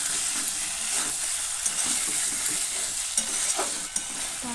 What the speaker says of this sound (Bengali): আবারও একটু মিশিয়ে নিচ্ছি